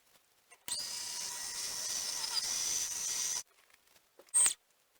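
A drill bores holes in aluminum parts for a small handmade vise, a steady high whining hiss running for about three seconds, then a short sharp burst near the end, close up with no voices.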